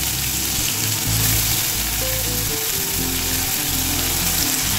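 Onion and garlic paste hits hot oil for a fish jhal, a loud, dense, unbroken sizzle that fills the whole stretch with no voices over it.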